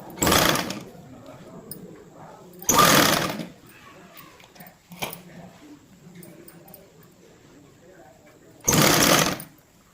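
A sewing machine stitching frills onto a Punjabi dress pant runs in three loud, clustered bursts, one near the start, one a few seconds in, and one toward the end. Quieter handling noise and faint talk fill the gaps.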